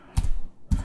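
Computer keyboard typing: two short clustered bursts of key clicks separated by a brief pause, close and crisp.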